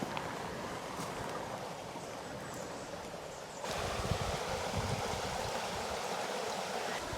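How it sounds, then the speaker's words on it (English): Water rushing steadily through a small dam on a château property, a continuous broadband wash that grows slightly louder and fuller halfway through, close by with no voices. "this is where the water goes through here. It's the dam."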